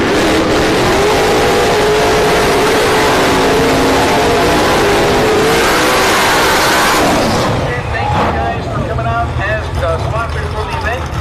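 A blue C4 Corvette and a Fox body car race side by side on a no-prep drag strip, engines roaring loud and continuous before fading into crowd noise as an announcer talks throughout.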